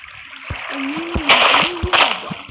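Flowing water in the Minecraft video game, a continuous rushing and splashing stream with a few sharper splash bursts, loud and up close, with no talk over it.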